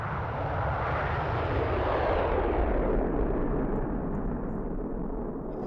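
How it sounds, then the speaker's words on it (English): An F/A-18 jet flies past near the White House and the National Mall, a loud, continuous roar that stays steady for several seconds with no talk over it. "F-A-18."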